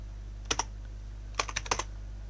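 Keys on a computer keyboard clatter in two short bursts, a quick pair of taps followed by a rapid run of four or five clicks, close and crisp over a quiet low electrical hum.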